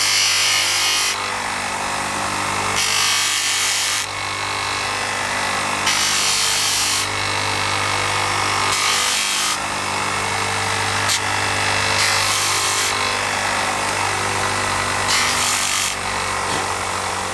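HS33 brake pads are sanded in steady abrasive rubbing strokes, with louder bursts repeating roughly every three seconds over a constant low mechanical hum.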